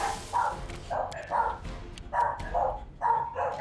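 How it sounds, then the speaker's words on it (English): Dogs bark in a fantasy role-playing game, Pathfinder: Kingmaker, a series of sharp mid-pitched barks in an irregular rhythm, fairly close and loud with no talk over them. "Did anyone hear any dogs barking, or is that just me?"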